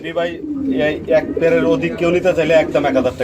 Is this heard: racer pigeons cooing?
yes